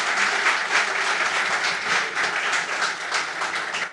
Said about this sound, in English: Big round of applause for the marketing team.